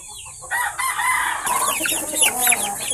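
Young bulik roosters and other chickens cluck and squawk in a close, busy flurry, with a crow-like call breaking out midway, and no one speaking.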